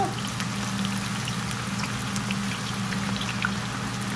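Onions deep-frying in hot oil at about 350 degrees, giving a steady, dense sizzle and bubbling hiss with no pauses.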